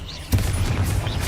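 A Confringo explosion spell bursts in Hogwarts Legacy, a single sharp booming blast a third of a second in, followed by a low rumbling tail.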